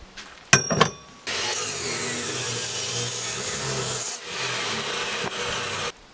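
A hand saw cutting through steel angle iron, starting with a few metallic knocks, then long steady rasping strokes that run continuously, pause briefly, and resume, close and loud.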